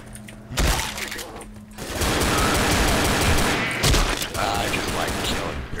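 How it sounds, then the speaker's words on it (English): Gunfire from dual pistols in Left 4 Dead, a couple of sharp isolated shots followed by a sustained, dense barrage of rapid firing with clattering impacts, loud and close. "We should have a contest to see who could shoot the dual pistols faster."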